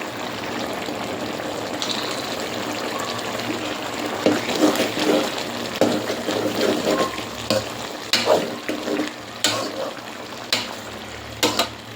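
Vegetables fry in a pan as spices go in, with a steady sizzle throughout and sharp clatters of stirring that come louder and more often in the second half.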